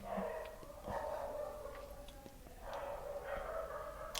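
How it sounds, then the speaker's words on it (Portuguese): Dogs howl and bark at a distance, a faint, drawn-out wavering howl with scattered short barks breaking in. "Cachorros, cachorros."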